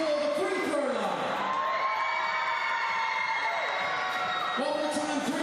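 Loud sustained crowd roar with cheers, whoops and high shouts from spectators in a basketball arena during a Hawke's Bay Hawks versus Manawatu Jets game, continuous throughout.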